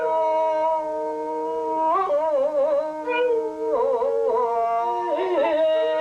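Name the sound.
dog howling along to Japanese folk song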